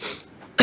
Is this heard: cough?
yes